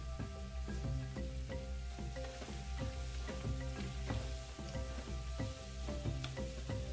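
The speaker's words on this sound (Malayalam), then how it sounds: "ഇനി ഒരു പിടി കശുവണ്ടിയും കൂടെ ചേർത്ത് നമുക്കിതൊന്ന് നന്നായിട്ട് വഴറ്റാം" Ripe tomatoes and a handful of cashews sizzle and sauté in a pan for butter chicken, a soft, steady frying crackle with repeated light stirring clicks and scrapes, close by and fairly quiet.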